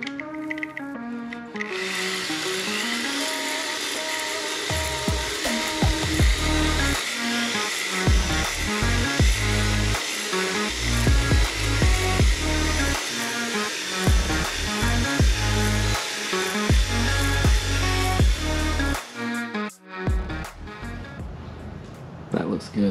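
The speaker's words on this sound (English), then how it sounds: "we'll start honing some of these" A cylinder hone grinds inside the cylinders of an LS engine block during a home rebuild, a loud continuous whirring with rhythmic scraping strokes that starts after a brief pause and stops near the end, with some talk.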